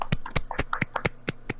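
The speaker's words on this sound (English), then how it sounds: "Clap it up. Do a little clapsies" Several sharp hand claps close by, spaced irregularly over a couple of seconds with a faint voice in between, sounding like a small group clapping along on a casual podcast.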